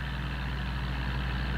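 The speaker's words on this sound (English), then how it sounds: "As the tractor pulls the test rig, it is possible to vary the load and to measure the power output needed to pull it." A tractor engine runs under load as it pulls a test rig, a steady low diesel drone with a deep rumble throughout and no variation.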